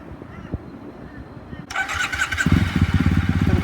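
A motorcycle engine running as the clutch is eased out during a takeoff, quiet rumble first, then a sudden rise into a louder, rough, pulsing engine note close by.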